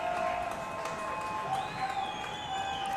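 Crowd at a high school football game between the LSHS Tigers and NKC Hornets, a steady loud roar of cheering and noise filling the stands for the full stretch, with no break.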